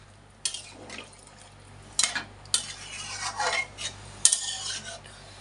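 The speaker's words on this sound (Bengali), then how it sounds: "এখন আমি ঢাকনা দিয়ে ঢাকা দিয়ে দেব।" A metal lid is set onto a pot of simmering mutton curry, giving a few sharp clinks and clattering knocks spread over several seconds against a low, steady background.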